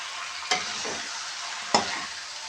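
Ground beef with red kidney beans in sauce gets stirred in a pan: two sharp spoon scrapes against the pan over a soft, continuous sizzle, close and fairly quiet.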